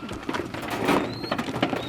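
A racing pigeon coos softly up close in a loft, a few throaty rolling calls over faint background noise; no voices.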